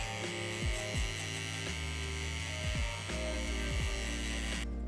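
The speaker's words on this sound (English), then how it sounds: "I'm going with my clipper" Electric hair clipper buzzing steadily at close range during a burst fade haircut, a continuous motor hum with slight changes in pitch as the blade moves through the hair; no talking.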